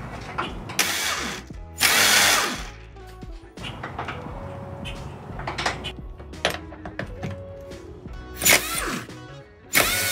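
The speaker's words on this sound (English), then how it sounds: "so I'm going to hold the bolts in place while Dalton loosens them" A power tool works bolts loose beneath the floor of a vintage RV during demolition, heard as loud intermittent whirring bursts mixed with ratcheting clicks and metallic clanks, close by and without speech.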